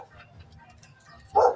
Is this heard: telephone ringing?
no